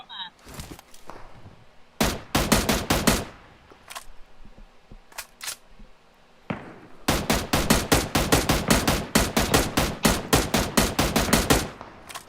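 Gunfire in a video game: a few isolated shots, then a short burst, and later a long rapid automatic volley of sharp reports, loud and close.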